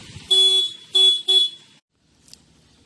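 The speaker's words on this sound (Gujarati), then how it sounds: "આમાં છે એ હોર્ન પરફેક્ટ છે એટલે આમાં હોર્ન વાગશે" A working electric horn on a switch demonstration board blares three times up close, one long blast then two shorter ones, followed by silence and a faint click.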